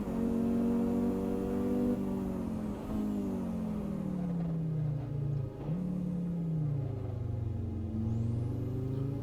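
Race car engine in the Assetto Corsa racing game, droning loud and steady as revs climb and fall, bouncing against the rev limiter in a sustained high whine with brief dips between gears.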